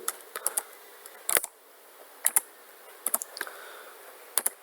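Someone types code on a computer keyboard, with close, crisp key clicks arriving in short irregular bursts and clusters separated by brief pauses in a quiet room.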